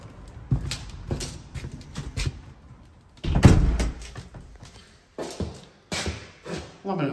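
A uPVC entrance door opening into a vestibule, with a handle clunk and a latch, soft knocks and shuffling footsteps, close and fairly loud, in broken bursts.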